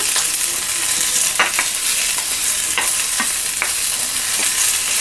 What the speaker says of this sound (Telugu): అలాగే ఇలాగ పొడవుగా కోసుకున్న ఉల్లిపాయలు ఇవన్నీ కొంచెం సేపు ఫ్రై చేస్తాను